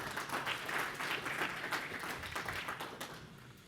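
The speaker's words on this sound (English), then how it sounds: "so let's give Lexie a round of applause." Audience applause after a speaker on a ranching panel about targeted grazing, a moderately quiet, steady crowd clapping that tapers slightly toward the end.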